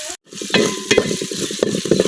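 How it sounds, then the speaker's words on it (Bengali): Ginger and garlic paste with spices fries in a pan. It gives a loud, close sizzle broken by repeated scraping strokes of a spatula stirring the mixture, with a brief gap near the start. "আমি সবকিছু কিছুক্ষণ বাজা লইয়াম"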